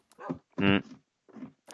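A person gives a short, loud barking imitation of a dog, with scattered speech bursts before and after in an indoor house presentation.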